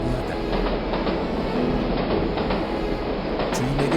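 Loud, constant rumble and rattle of a subway train in motion, heard from inside the car, with faint rhythmic clacking and a brief squeal toward the end.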